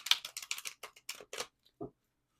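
A tarot deck is shuffled close up, producing a quick run of crisp card flicks and taps, ending with a couple of isolated soft knocks.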